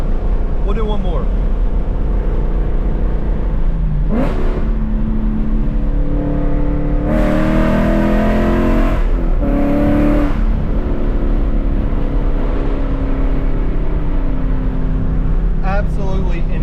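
A 700whp Mustang engine revs hard, loud and close, with harmonic bursts rising in pitch from about 7 to 10 seconds over a steady engine drone.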